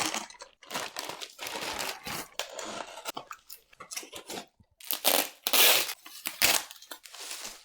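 Crinkling and tearing from a boxed deck of AD&D second edition Psionic powers cards being unwrapped. Close, irregular bursts of plastic and paper rustle come in uneven clusters with short pauses between them and no talk.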